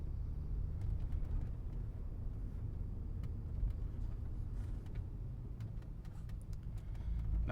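A 2001 Audi S4 Avant with a six-speed manual is driving, heard from inside as a steady low engine and road rumble that holds fairly even throughout, with no talk.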